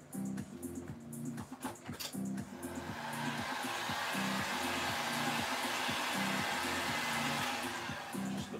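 A hot air tool blows continuously, heating the back of an iron spider leg part for shaping, a loud steady whooshing roar that starts unevenly and then holds constant.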